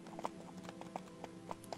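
Horses' hooves clip-clop faintly in the Fallen Earth video game, with soft, irregular thuds over a steady background hum.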